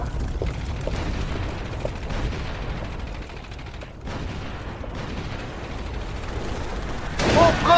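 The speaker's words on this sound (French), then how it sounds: "On prend des tirs de fusil!" Rifle fire in a war film battle scene: scattered sharp shots and mechanical clatter at moderate distance, fairly subdued under a rumbling background, swelling louder near the end.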